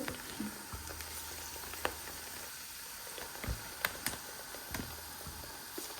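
Brinjal and cauliflower pakoras fry in hot oil, a soft continuous bubbling patter with scattered sharp pops and a few clicks, faint and close without any talk.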